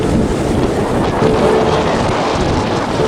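A sailboat on a beam reach through two-metre waves gives loud, steady wind roar over the microphone with broad rushing water and hull wash throughout.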